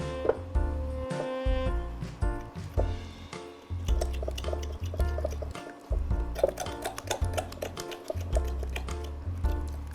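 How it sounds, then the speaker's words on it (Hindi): Water poured into millet flour batter in a kitchen, soft liquid squishing and dripping while the batter is mixed, with occasional clinks of utensils against a bowl, close and moderately quiet. "तो ये हम इसमें पानी डाल लेते हैं और बिल्कुल गाढ़ा सा एक बैटर बना लेंगे।"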